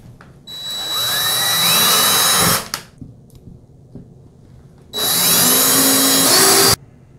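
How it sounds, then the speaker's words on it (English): Power drill boring two holes into a wall for mounting a medicine cabinet: two loud, close bursts of high whining drilling, each about two seconds long, separated by a quiet pause with faint handling noises. "now we're gonna go ahead safely and drill the two holes."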